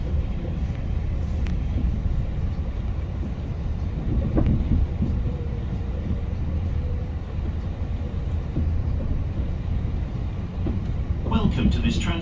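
A TransPennine Express train hauled by a class 68 locomotive runs along at speed, heard from inside as a loud, continuous low rumble and rattle with some brief higher clatter near the end.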